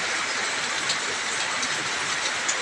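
Rain falling steadily outdoors, a loud, continuous broadband hiss of drops with no pauses and a few slightly brighter spatters on top.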